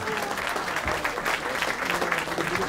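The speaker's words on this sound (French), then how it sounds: "qu'il faut l'applaudir" Steady applause from the audience at a literary event, the Rentrée Littéraire in Cap Ferret, dense and sustained clapping at an even level throughout, with no voices rising above it.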